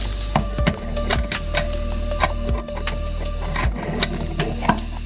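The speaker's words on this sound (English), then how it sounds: "Let's get the spanner and start tightening." A spanner tightens a bidet fitting by hand: a run of sharp metallic clicks and taps, near and moderately loud, with a steady low hum underneath.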